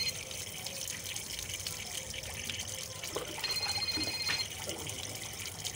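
Water runs through a Sanjivani stick, a continuous quiet gush that swells slightly near the middle and has a faint whistle over it.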